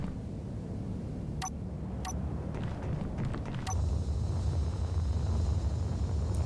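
Continuous low rumbling thrust from a jetpack in the Space Engineers game, steady throughout and swelling louder toward the end, with a few sharp electronic ticks over it.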